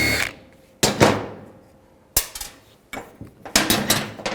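Metal clanks and ratcheting knocks from a 13mm socket wrench working a nut off a 2000-04 GMC Yukon windshield wiper transmission arm, several sharp close impacts with short ringing decays, no talk.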